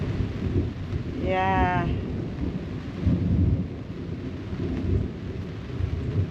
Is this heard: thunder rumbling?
yes